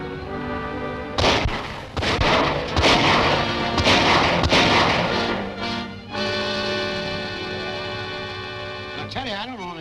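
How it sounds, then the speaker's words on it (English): Gunfire in a 1939 film serial: a burst of sharp, loud shots over roughly five seconds, followed by a lingering rumble and a short swooping sound near the end. "then let them have it. I'll fire the first shot."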